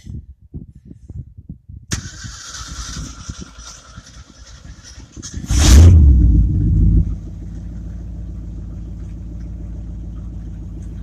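A 1967 Ford 350 truck engine cranks with a rapid clicking run-up, catches with a loud roar, then settles into a steady low rumbling idle.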